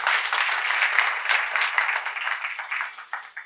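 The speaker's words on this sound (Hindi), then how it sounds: "तालियां बजाए जोर से आपने लिए" An audience at a Brahma Kumaris spiritual talk in Jalna claps loudly, a dense continuous round of applause that gradually thins and fades toward the end.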